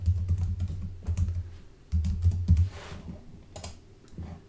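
Fingers type on a computer keyboard in short bursts of quick clicking keystrokes, with brief pauses between the bursts, heard close and clear with no voices.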